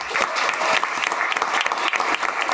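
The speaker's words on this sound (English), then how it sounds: "Let's give them a round of applause." An audience at a city event applauds, a dense, steady clapping from many hands close by, lasting throughout without a break.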